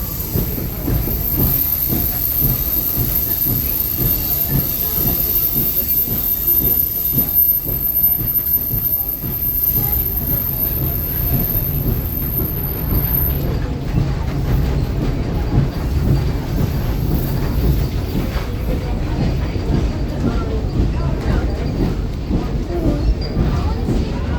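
A scenic mountain train rumbles steadily along the tracks for a long stretch, with constant wheel noise, faint clicking and an occasional high squeal.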